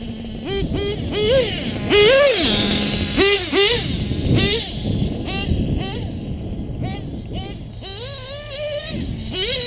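A modded RCR 28.8 Rex nitro engine in an RC vehicle screams loudly, revving up and down in repeated rising and falling whines, with someone talking over it.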